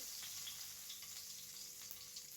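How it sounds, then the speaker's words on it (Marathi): Curry leaves sizzle and fry steadily in hot oil for a jowar (sorghum) upma, a continuous close crackle with occasional louder pops and no voices. "थोडीशी कढीपत्त्याची पानेही घालून घेऊयात व्यवस्थित परतून घ्यायचं आहे"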